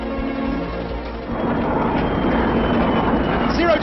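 An airplane accelerates on a parabolic zero-gravity flight, a loud steady engine roar that builds and swells toward the end, with some talk mixed in.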